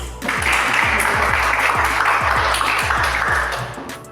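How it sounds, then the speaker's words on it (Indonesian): Classroom applause from students, a broad steady wash of clapping lasting several seconds with low rhythmic thumps underneath, fading slightly at the end. "Ya, tepuk tangan dulu."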